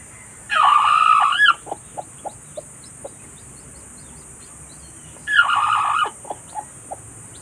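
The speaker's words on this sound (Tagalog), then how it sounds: "Ayan po ang aking native chicken." Native chickens in a farmyard, two long crows a few seconds apart, each followed by a string of short clucks, loud and near over quiet background hiss.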